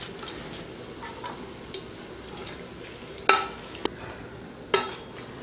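Three bay leaves frying in oil for coconut milk rice, giving a soft steady sizzle with a few sharp clicks and pops near the end, no voices.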